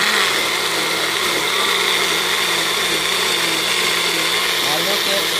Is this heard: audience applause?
no